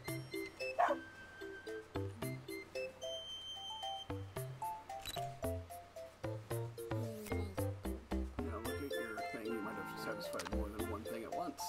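Dogs in the video game Pupperazzi yip and bark in quick, repeated short bursts over a bouncy musical backdrop, fairly close and steady throughout, with a voice talking over parts of it.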